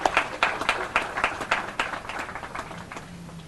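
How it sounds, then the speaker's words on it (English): A round of applause at a housing authority building opening ceremony on Dana Street, Revere: a crowd clapping steadily with sharp irregular claps, moderately distant, gradually thinning out toward the end. "we would like to have a round of applause thanking you for your hard work"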